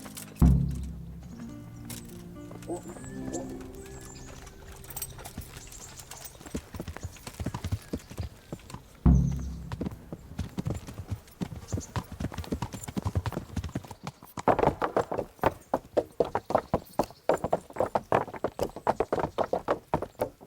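Horse hooves clip-clop on a road in the video game Kingdom Come: Deliverance. A steady, close, rhythmic walking beat picks up into a quicker, louder trot near the end.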